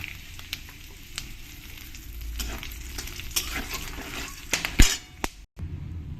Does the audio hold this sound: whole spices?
yes